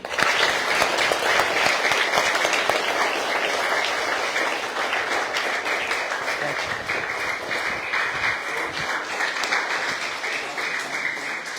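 Schoolchildren clap together at a school gathering, a dense, steady burst of applause that stays loud and continuous for the whole stretch with no pause.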